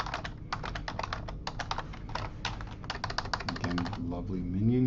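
Rapid typing on a computer keyboard, a close run of quick clicky keystrokes in bursts with brief pauses, and a voice starting to speak underneath toward the end.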